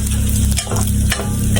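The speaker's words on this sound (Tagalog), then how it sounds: "Tapos lalagyan natin ng kaunting mantika. Hindi nagmantika eh. Tapos haluin natin. Igigisa natin hanggang sa pumula." Food sautés in a little cooking oil for Filipino mung bean stew, a loud, close, continuous sizzle with a couple of stirring scrapes cutting through.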